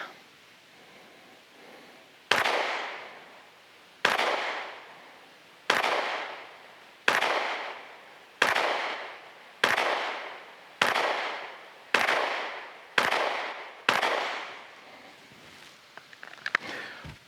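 Ten sharp pistol shots ring out one at a time at a shooting range, evenly spaced about 1.3 to 1.8 seconds apart, each loud crack followed by a short decaying echo, with no talk in between.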